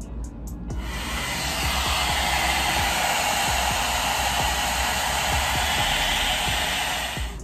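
An Amika blow dryer brush runs on low heat and high speed, giving a steady, loud broadband whoosh with a faint motor hum that starts after a few brief clicks and holds constant to the end.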